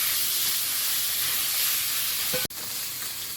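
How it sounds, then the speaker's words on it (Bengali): Sitabadi fish lightly frying in oil in a Sundarbans home kitchen gives a steady, close hiss of steam and sizzle, broken by one sharp click midway. "সীতাবাদী মাছটা প্রথমে হালকা করে ভেজে নেবো"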